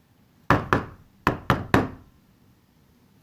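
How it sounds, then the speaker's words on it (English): Five sharp knocks on a wooden door in two quick groups, two raps then three, each clear and close against a quiet background. "knocked on the door."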